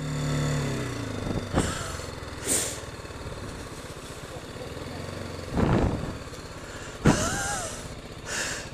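A Ducati motorcycle engine runs nearby at a low, steady rumble as it arrives at a busy stop. Short bursts of voices and exclamations break in over it several times.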